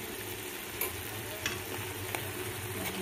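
Ginger garlic paste frying with tomato and onion in a pan for a drumstick curry, giving a soft, steady sizzle with a few faint utensil taps as it is stirred.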